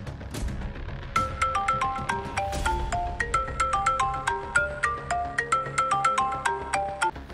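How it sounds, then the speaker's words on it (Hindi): A mobile phone rings with a melodic electronic ringtone, a repeating pattern of bright tones that plays steadily and clearly for several seconds, with almost no voices over it. "अगर मोबाइल यहीं होगा तो अभी बजेगा।"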